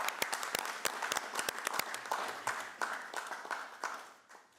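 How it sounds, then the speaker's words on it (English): Quiet, scattered applause breaks out at a Burnside council meeting, with a few distinct hand claps coming irregularly and thinning toward the end. "And I think maybe a round of applause might be useful."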